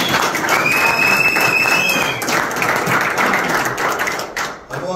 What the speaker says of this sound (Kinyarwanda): Reka tuvuze impundu tukomye amashyi